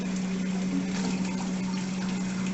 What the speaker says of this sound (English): So we will collect water for like 30 seconds here.